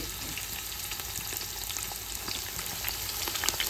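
Onions, green chillies and curry leaves fry in a hot pan, giving a dense, steady crackling sizzle at close range with faint stirring throughout.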